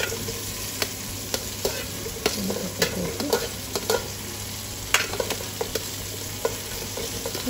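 Chopped vegetables stirred into a pan for a Kerala sambar, with a steady sizzle and frying hiss under repeated clinks and scrapes of the spoon, close and continuous.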